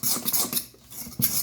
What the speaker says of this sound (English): we're just going to whisk this, and this is what becomes